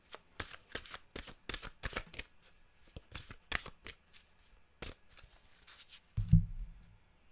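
A deck of mantra cards is shuffled by hand, a quick run of soft, crisp riffling flicks close up, followed by a duller thump as the deck is cut.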